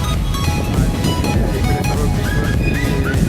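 Surf at a Konkan beach near Harihareshwar temple washes in as a continuous, fairly loud rush with no clear pauses between waves.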